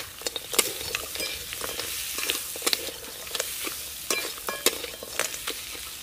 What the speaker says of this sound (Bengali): মশলার সঙ্গে কাঁকড়াগুলো খুব ভালো করে কষে নিয়েছি।